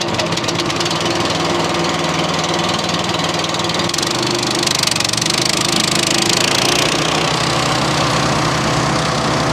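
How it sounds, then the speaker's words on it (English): A MechMaxx B200 wood chipper's twin cylinder engine running steadily nearby, loud with a throbbing low drone, and its pitch and roar shift partway through as the engine speeds up. "This is the top of the line wood chipper that they sell on MechMaxx"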